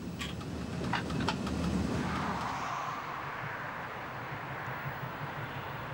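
A DB class E94 electric locomotive from the Bavarian Railway Museum Nördlingen hauls a photo freight train on the Garmisch-Partenkirchen–Mittenwald line, a steady rumbling drone with some rattling clanks early on, heard from the trackside.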